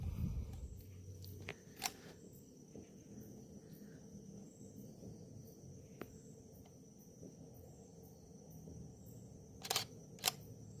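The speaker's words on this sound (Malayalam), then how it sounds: "നമുക്ക് പെട്ടെന്നൊരു മൂണിൻ്റെ ഒരു ഫോട്ടോ എടുക്കാം" DSLR camera with a 300mm lens firing its shutter at the full moon outdoors at night, a few sharp, brief clicks, with a faint cricket chirp and soft handling noise in the background.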